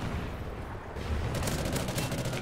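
Gunfire in the Call of Duty Ghosts video game during a Domination match on the Sovereign map: dense, rapid automatic shots crackling continuously at moderate loudness, with faster bursts toward the end.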